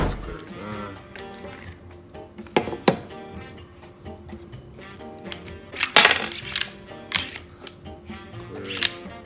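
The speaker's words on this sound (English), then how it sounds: "First, let's clear the gun." Metallic clacks and thunks from an FN FNX-45 Tactical pistol being cleared, its slide racked and parts handled, a few sharp clicks spaced over several seconds close to the microphone, with no talking.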